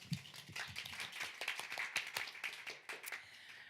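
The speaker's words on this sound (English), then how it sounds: "Please give a round of applause to Carly Findlay." Audience clapping for writer Carly Findlay at a literary talk, faint and distant, a small group's scattered claps over a few seconds.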